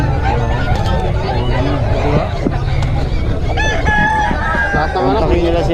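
Roosters crow and hens cluck nearby at a chicken market in Bocaue, over a busy background of overlapping voices and chatter.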